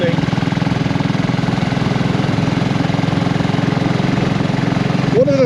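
A BSA Rocket Goldstar motorcycle engine cruising in top gear at about 40 mph, a steady loud low-pitched pulsing throb with wind rush, continuous throughout.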